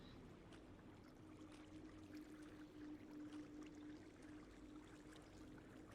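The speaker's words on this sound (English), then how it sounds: "You can even hear the water flowing around" Flowing water in Minecraft, a game, running in long streams along hallways of a large empty room: a steady, soft, continuous wash with a faint low hum underneath, no voices.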